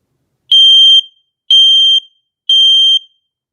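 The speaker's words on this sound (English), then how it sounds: "after fixing the plate that makes the beeping noise, now it works." A smoke alarm under test sounds three loud, piercing electronic beeps, each about half a second long and evenly spaced one second apart, with silence between them.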